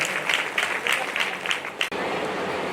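An audience at a religious gathering claps to welcome a speaker, a dense crowd of hands applauding steadily at close range that breaks off abruptly near the end, leaving a noisy room tone.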